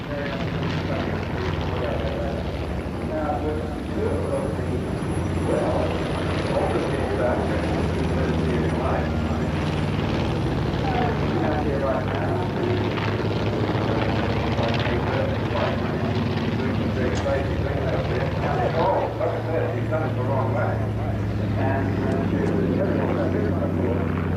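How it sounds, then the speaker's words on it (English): Fabric-covered model propeller planes fly in a dogfight at an Auckland airport air show, giving a continuous buzzing engine drone that stays steady throughout under ongoing talk. "How easy is it to prang these fabric-covered toy planes?"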